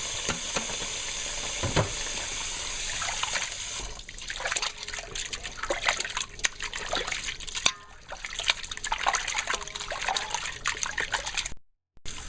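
Tap water runs steadily as raw chicken is washed with lemon and vinegar for a chicken curry, splashing and trickling close by for several seconds with a brief break near the end; nobody speaks.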